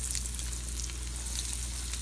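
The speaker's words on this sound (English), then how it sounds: "I'm just going to place the shrimp in." Shrimp frying in hot extra virgin olive oil in a frying pan: steady, close crackling sizzle with faint pops throughout, fairly quiet, with no speech.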